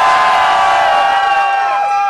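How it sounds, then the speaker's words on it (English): Crowd cheering and shouting for a young rider at a bull riding contest in a music hall, loud and continuous with whoops and children's voices, a sustained roar that begins to fade near the end. "Sarah, hop up there. Make some noise."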